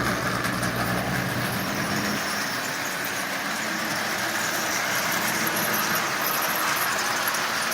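Marx 400 micro motor toy locomotive with headlight hauling a long string of twenty Marx cars, a steady continuous whir and rattle of motor and wheels on track throughout, fairly loud and even, with no voices.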